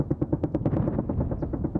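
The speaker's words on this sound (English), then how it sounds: "Cross-border gunfire could be heard" Rapid bursts of cross-border automatic gunfire from southern Lebanon crackle in a dense, steady rhythm, loud and continuous with no speech over it.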